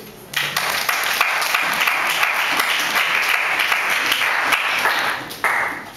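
A church congregation bursts into dense, sustained applause that swells quickly and carries on for several seconds, loud and steady, then briefly rises again near the end.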